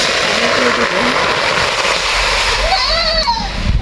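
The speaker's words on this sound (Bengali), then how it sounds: "হালকা একটু পানি দিয়ে দিলাম" A little water hits a hot wok of mango and other spicy pickles, bursting into a loud, continuous hiss and splatter close by, with a voice speaking briefly over it.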